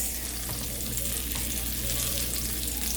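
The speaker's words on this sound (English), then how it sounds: "I want to make sure it's seared nicely on that side so it'll cook straight through the meat here" Salmon steaks sear in a hot pan on a stovetop, giving a steady, close, dense sizzle and crackle that holds evenly throughout with no talking.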